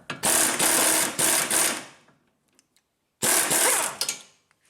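A power tool whirs in two long bursts while unbolting a loose car sway bar (stabilizer) link, its shaft spinning freely, with a pause of quiet between the bursts.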